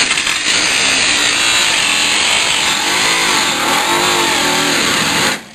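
A battery-powered cutting tool runs loud and steady, trimming a Monza fender close by for several seconds, its whine wavering slightly as it bites, then cutting off abruptly at the end.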